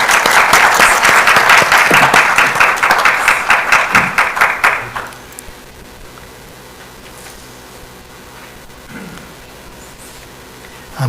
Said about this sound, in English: Let's give Prof a round of applause.